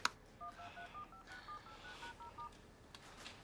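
A short series of telephone keypad tones beeps in quick succession, faint and close, in an otherwise quiet room.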